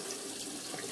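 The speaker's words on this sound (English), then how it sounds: "I don't know if you can hear the water running." Water runs from a tap into a sink in a steady, even hiss, faint and continuous behind the room.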